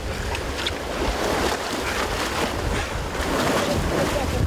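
Strong open-sea waves and wind during a long-distance swim toward Dokdo, a loud continuous rushing surge with gusting wind noise buffeting the microphone throughout.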